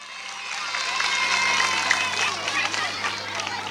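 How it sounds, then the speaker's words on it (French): Schoolchildren in a classroom clap together in a short, busy burst of applause mixed with murmuring voices, fairly close and moderately loud. "Ah, applaudissez ça."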